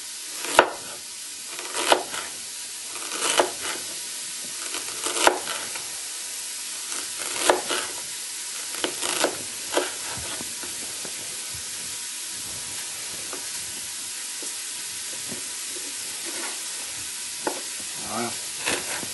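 Chicken gently browning in a pan for a chicken dish with coconut milk and black mushrooms, giving a steady close sizzle broken by periodic stirring scrapes and clicks throughout, with no talking.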